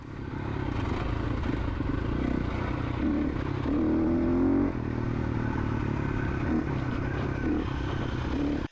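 A Yamaha YZ250FX enduro motorcycle rides a trail, its steady engine drone continuous and close throughout, with a brief rise in pitch midway and light clattering from the terrain.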